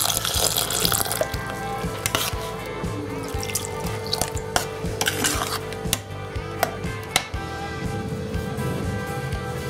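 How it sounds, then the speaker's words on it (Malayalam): Water poured from a mixer jar into a pot of yam and dal curry, a steady liquid trickle and splash with drips and light clinks of kitchen utensils, close and continuous with no talking. "ആ മിക്സിയുടെ ജാറിൽ തന്നെ വെള്ളം ഒഴിച്ചിട്ട് നമുക്ക് അത് ഒഴിച്ചു കൊടുത്താൽ മതി."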